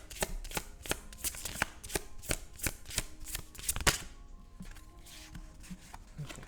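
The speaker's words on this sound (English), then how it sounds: "So I'm gonna do a shuffle and then cut the deck." A new deck of tarot cards is shuffled by hand, quick crisp riffles and snaps in a rapid rhythm for about four seconds, followed by softer handling and light taps, close and fairly quiet.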